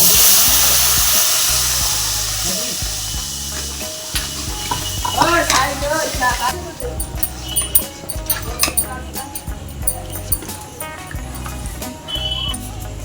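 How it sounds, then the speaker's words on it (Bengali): Boiled milk hits melted sugar in a hot pan for milk tea, a loud sizzling rush that settles into bubbling and stirring clatter, with a voice speaking over part of it. "তো দেখুন এবার আমি 1 কাপ দুধ নিয়েছি। দুধটা আমি আগে থেকে ফুটিয়ে নিয়েছিলাম। তো আমি এবার ঢেলে দেব।"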